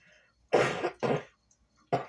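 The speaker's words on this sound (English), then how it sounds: "I have to cough" Three sharp coughs, close and loud: two in quick succession, then a pause before a third, with no talking.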